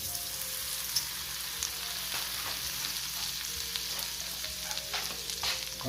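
Butter sizzles and fries in a pan while keto oysters Rockefeller are being cooked, giving a steady crackling hiss with small pops and faint stirring clatter throughout, close up and with no voices.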